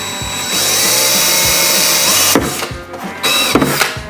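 Close, loud whine of a power drill running steadily into a metal sign, then stopping and restarting in a couple of brief bursts with clunks between.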